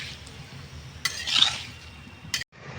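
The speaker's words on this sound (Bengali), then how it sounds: "একটু হালকা করে আমি নেড়ে নেবো এটাকে।" Papaya pieces stirred in a light sugar syrup in a pan, with a spoon scraping softly and giving two sharp clinks against the metal; no one speaks.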